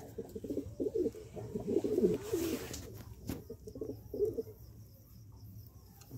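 A pigeon handled at night gives soft, repeated throaty coos close by, with quieter gaps and a few rustles between.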